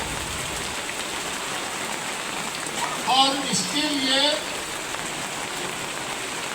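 Heavy rain pours steadily during an outdoor gathering at a market shelter, a constant broad hiss under someone speaking briefly in Hindi.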